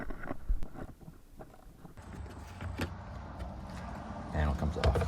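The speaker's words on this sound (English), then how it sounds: "Panel comes off." Plastic interior side trim panel pried off a 2013 Ford Escape after its bolt is removed, heard as a few close clunks and scraping rattles in a quiet garage, with someone speaking briefly.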